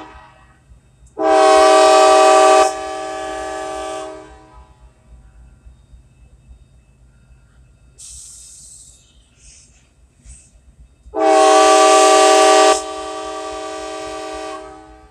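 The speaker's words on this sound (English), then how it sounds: "It must be a Christmas bell, train bell." A loud train horn-like tone blasts twice, each lasting about two seconds with a fading tail, over a low rumbling background and faint chirping, on a Norfolk Southern line in Alabama.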